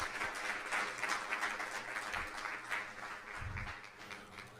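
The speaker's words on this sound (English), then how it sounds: "big round of applause" Applause from a school board meeting audience honoring a classified employee of the year, steady dense clapping sustained throughout at moderate distance, without talk over it.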